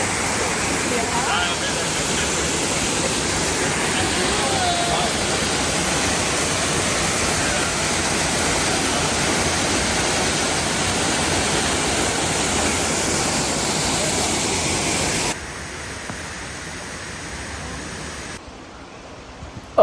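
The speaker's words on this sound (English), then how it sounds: "Like 15 waterfalls." Waterfalls in a Costa Rican rainforest roar as a loud, constant broadband rush that fills everything, then abruptly thins to a quieter hiss near the end.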